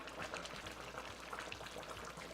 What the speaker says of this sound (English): I'm going to add just a little bit of warm water.